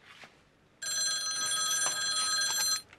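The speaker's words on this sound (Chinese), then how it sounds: "小姐啊，电话" A telephone rings loudly and steadily at close range in a Hong Kong home, a bright electronic trill lasting about two seconds after a brief quiet start, with no talking over it.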